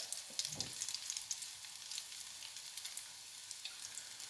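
Courgette fritters frying in hot oil, a steady bright sizzle with scattered crackles and small pops, one low bump near the start, no talking.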